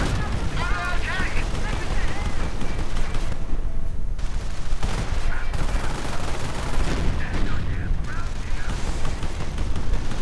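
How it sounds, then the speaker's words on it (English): Tanks including a Wirbelwind, Panther and Panzer IV alongside Shermans, firing in a WWII strategy game battle: dense, continuous gunfire and cannon blasts with rattling machine guns, loud and unbroken, with a commentator talking over it. "Wirbelwind, Panther, Panzer IV, everything just firing away"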